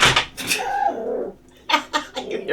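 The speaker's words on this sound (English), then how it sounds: "she's barking like somebody else did it" A puppy barks indoors, several sharp, high yaps in quick bursts with a brief pause between them, close and fairly loud.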